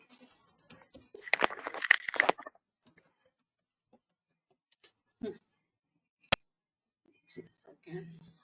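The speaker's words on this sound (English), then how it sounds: "So guys, can you all see I'm typing my email ID?" A computer keyboard is typed on in a quiet room, with a brief burst of quick, light key clicks followed by a few scattered, isolated taps.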